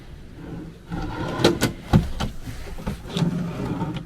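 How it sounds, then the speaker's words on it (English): Push-close drawer slides on kitchen drawers in a camper van make a series of sharp clicks and knocks as the drawers are pushed shut, close and fairly quiet. "I'm going to change some hinges in our kitchen drawers to the push closed drawer slides."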